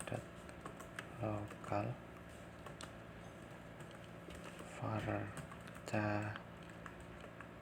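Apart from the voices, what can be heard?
typing on a computer keyboard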